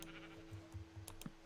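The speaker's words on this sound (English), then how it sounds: "So we have 3 sheep now." Sheep bleating in a survival video game, several short nasal bleats in quick succession, fairly close and clear over a faint steady background hum.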